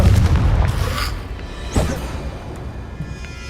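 Confringo spell explosion in the video game Hogwarts Legacy, a heavy booming blast that fades out, followed by a second, sharper burst that decays into a low tail.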